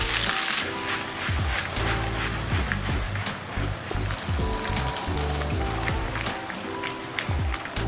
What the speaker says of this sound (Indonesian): Dari sini kita masukin cooking cream.